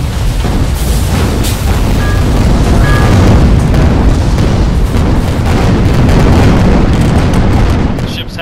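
An airship breaking apart and exploding in the online game Guns of Icarus Online: a loud, sustained roar of booming blasts and crashing debris fills the whole stretch, then eases off at the very end.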